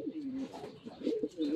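Nearby pigeons give soft, repeated throaty coos in a rolling rhythm, with faint rustling around them.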